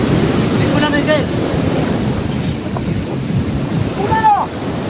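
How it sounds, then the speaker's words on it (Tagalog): Strong ocean surf rolls and crashes along a beach in Camarines Sur, a loud, continuous wash of waves buffeted by wind noise, with faint voices rising briefly over it. "Lakas ng alon"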